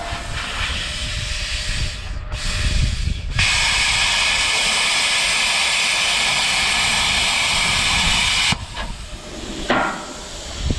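A Cutmaster 82 plasma cutter cuts metal with a loud, harsh hissing roar of air and arc, broken by brief stops and restarts, then a long steady burst before cutting off near the end.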